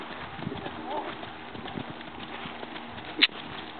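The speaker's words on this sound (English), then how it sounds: "You want to stay on this circle, okay? And go ahead and canter." A horse canters on a circle during a riding lesson, its hooves giving a soft, steady rhythmic clip-clop at moderate distance under an instructor's voice, with one sharp click near the end.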